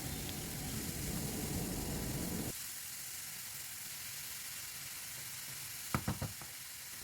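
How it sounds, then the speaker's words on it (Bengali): Raw papaya pieces fry in a pan over a medium gas flame, giving a steady close sizzle that cuts off abruptly partway through, leaving quiet background noise and a few brief clinks near the end. "একটু নেড়ে ছেড়ে নেব গ্যাসের ফ্লেম মিডিয়ামে রেখে এইভাবে পেঁপেটাকে একটু ভেজে নিয়ে করলে"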